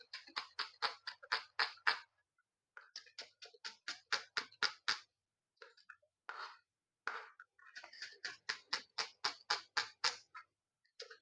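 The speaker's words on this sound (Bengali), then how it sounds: "তো চলো পেঁয়াজ কেটে নিই" Knife chopping onions on a kitchen board, close and crisp: fast, even runs of sharp chops in bursts of about a dozen, separated by short pauses, with no talking.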